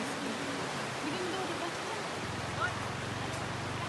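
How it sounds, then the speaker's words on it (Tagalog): Light rain falls outdoors near the Tanabag River, a steady, even hiss of drops filling the background without pause while people talk over it. "Medyo pumapatak na yung ulan."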